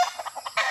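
A chicken clucks in short, rapid bursts while picking a fight with a dog, the calls close and sharp in a brief quick series.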